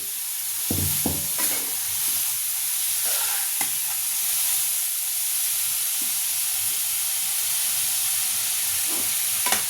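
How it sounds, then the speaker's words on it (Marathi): Grated carrots sautéing in ghee over a low gas flame for gajar halwa, a steady close hiss of frying with occasional spoon scrapes and knocks against the pan. "आता मी त्यामध्ये हे गाजर घालते। आपल्याला थोड्याशा बारीक गॅसवर हे छान परतून घ्यायचे तुपामध्ये"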